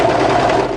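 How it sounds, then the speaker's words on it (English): An overlocker sewing machine stitches a short distance of fabric, a brief loud rapid mechanical chatter lasting under a second. "what I'm going to do is just overlock a short distance"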